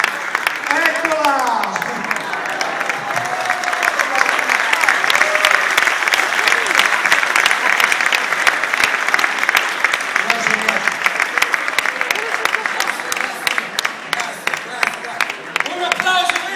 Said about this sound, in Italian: Un applauso ai repisti!